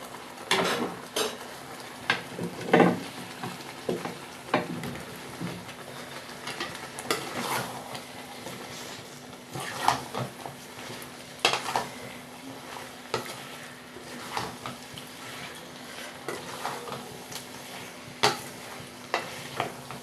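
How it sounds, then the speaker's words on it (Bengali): Boiled bottle gourd greens being stirred into fried peanut paste in a pan, with scattered scraping and clinking of a utensil against the metal, soft sizzling underneath, irregular strokes at a close distance, no speech. "এই যে লাউ শাক সেদ্ধটাকে এবার দিয়ে দেবো এর ভেতরে"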